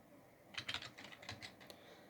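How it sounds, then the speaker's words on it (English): Computer keyboard being typed on in a short burst of soft, rapid key clicks, close and faint, with no talk. "So now, see keyboard types."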